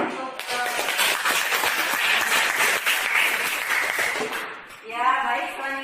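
A classroom of students applauds after a group finishes presenting its discussion results, a dense, steady wash of clapping for about five seconds that ends as a voice begins speaking.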